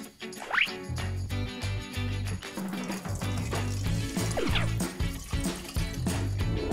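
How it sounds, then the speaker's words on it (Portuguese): Water pouring into a jar at the start of making a cooking-oil lava lamp, with gurgling, filling liquid sounds over a steady background of music. "Vamos começar colocando água nesse pote."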